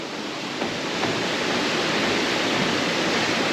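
Thirumoorthy waterfall in the hills near Pollachi roars as a steady, loud wash of falling water, close and continuous with no break.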